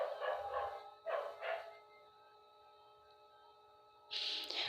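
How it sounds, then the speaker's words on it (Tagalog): Several dogs bark in short bursts with some yips, quite faint and at a distance, with a quiet gap between the bursts. "ang ingay ng mga aso"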